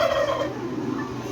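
A large rooster gives a loud, close, raspy call that fills the whole short stretch and fades slightly toward the end, with no talking over it.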